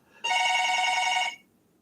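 A telephone rings once in a steady, loud electronic trill lasting about a second before it stops, with no one speaking over it.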